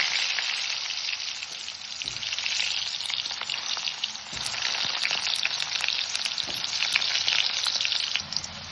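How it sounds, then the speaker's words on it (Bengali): Potato pieces fry in hot oil with whole cumin and a little fenugreek in a pan, giving a steady, dense sizzle throughout with occasional soft stirring knocks, close and fairly loud, no voices. "আলুটাকে খুব ভালোভাবে ভাজবো।"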